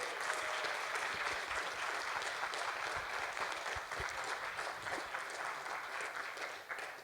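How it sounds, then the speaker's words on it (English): Audience at a film festival awards ceremony applauding in a steady, sustained round of clapping that holds at an even level for several seconds, fairly distant and without talk. "Let's give one more round of applause for Kurt"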